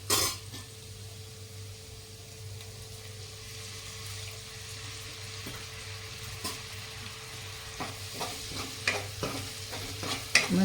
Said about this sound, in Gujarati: મસાલા બળી ના જાય એના માટે આપણે 2 ચમચી પાણી નાખી અને આ રીતના મસાલા આપણે સાંતળી દેવાના